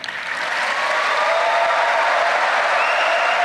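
Sustained applause from an audience at a spiritual discourse, dense and steady clapping that swells within the first half second and holds evenly throughout, with no voices over it.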